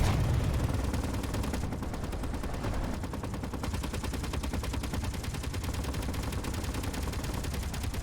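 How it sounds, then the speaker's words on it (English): Gunfire rattles from a base in a video game, with dense bursts of rapid shots and machine-gun chatter running continuously at a moderate level without a break. "There's a lot of gunfire coming from our base."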